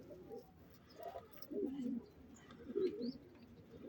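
Van pigeons on the ground in central Van, Turkey, recorded close up, giving soft throaty coos in short repeated bursts over quiet outdoor background.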